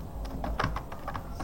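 Keys clatter on a computer keyboard while text is typed in Photoshop for a flex banner, a quick irregular run of close, crisp clicks over a low steady background hum.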